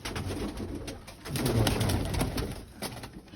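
Pigeons being fed in a coop in Boryspil coo softly and repeatedly, overlapping low rolling calls close by with faint shuffling around them.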